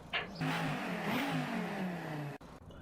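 Inline-five engine of an Audi TT RS in the Forza Motorsport racing game, revving steadily with a rising and falling tone for over two seconds before cutting off, loud and alone with no talking.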